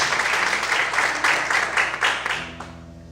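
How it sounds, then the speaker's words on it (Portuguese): Church congregation applauding together, a steady wash of clapping that fades out near the end as a low tone comes in. "Você pode desocupar a sua mão e aplaudir o Senhor bem forte, com bastante alegria."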